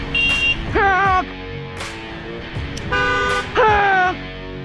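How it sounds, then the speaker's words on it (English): A car horn from a vehicle on a road toots in short, loud bursts, several honks in quick pairs spaced across the moment, close by with traffic noise underneath. "Honk!"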